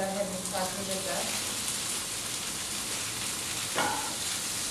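Pancetta sautéing in a pan on the stove, a broad steady sizzle with stirring, and a voice speaking briefly at the start and again near the end.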